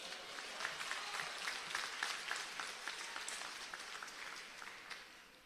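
Faint, steady applause rises from the crowd at an Al Jamaah provincial political rally in South Africa, a distant wash of many clapping hands with scattered whistles and murmurs.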